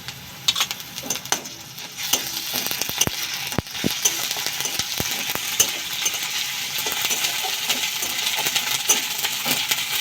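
Onions fry in oil with ginger-garlic paste for a kaske fish curry, a steady close sizzle punctuated by sharp metallic clinks and scrapes of a spatula against the pan.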